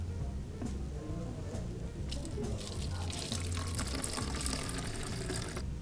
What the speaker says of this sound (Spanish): y llenamos nuestra botella de agua.